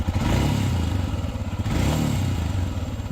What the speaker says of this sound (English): with that single CC, you get a really nice poppy exhaust tone